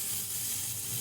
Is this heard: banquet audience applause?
no